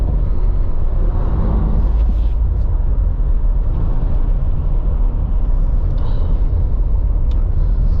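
A truck on a road in Jamaica gives a loud, close, continuous low rumble that holds steady for several seconds without a clear rise and fall.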